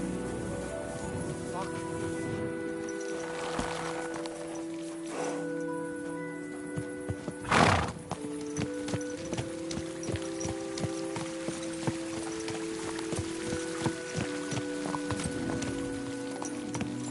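Horse hooves clip-clop steadily at a walk with a short neigh partway through, set against quiet game-style music in Kingdom Come: Deliverance II.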